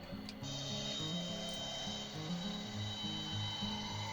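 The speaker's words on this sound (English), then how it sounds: "we will hear that input signal modulated on the carrier" A buzzy, warbling electronic tone from an oscillator signal modulated on a plasma carrier steps between low pitches in a repeating pattern over a steady hiss.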